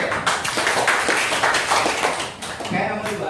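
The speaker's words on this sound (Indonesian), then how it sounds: "Tepuk tangan dulu." A class of students in an Islamic religious education lesson claps together, a dense, close burst of hands that runs steadily for a few seconds, with voices over it.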